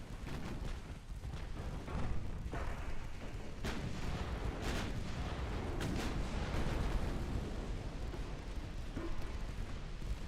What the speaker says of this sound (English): I want to see if the guns will fire off both sides of the ship at the same time